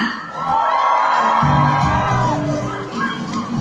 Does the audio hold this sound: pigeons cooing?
no